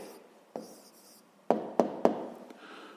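Pen writing an answer on paper during a fifth-grade maths exercise: soft scratchy strokes punctuated by four sharp taps, close and fairly quiet.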